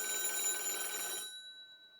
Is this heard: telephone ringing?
yes